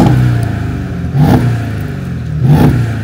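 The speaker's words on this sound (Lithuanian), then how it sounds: "Tai ką, variklis dirba, užvedėm." An old American car engine revving in repeated bursts, two loud rising revs over a steady, rough close-up idle.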